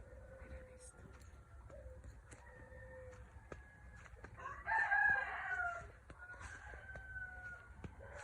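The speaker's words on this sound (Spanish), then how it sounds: "Esa es una codorniz." Dawn birdsong on a ranch in the early morning, with a quail calling among several birds. Clear whistled calls and a louder burst of calls midway sound over quiet, faint background noise.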